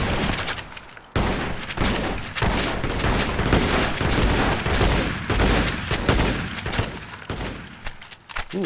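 Gunfire in the video game Fallout New Vegas, a dense, loud fusillade of rapid shots and booms that keeps going almost without pause, with a brief quieter lull at the start.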